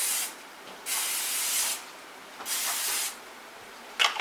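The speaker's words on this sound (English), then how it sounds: "Gonna spray our pan." Cooking spray hisses onto a baking pan in three sustained bursts of about a second each, followed by a brief final spritz, close and clear with no talking.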